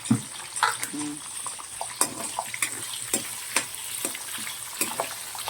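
Garlic is stirred and sizzles in a pan for Tamil-style mutton gravy, with steady frying hiss under repeated scraping spoon strokes at an uneven rhythm.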